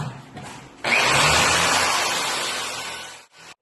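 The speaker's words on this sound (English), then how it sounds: "we're going to have to drill a hole here" A power drill bores a hole through a wooden 2x4 during ceiling fan wiring, a loud close grinding whir that starts abruptly, holds steady for about two and a half seconds, then stops.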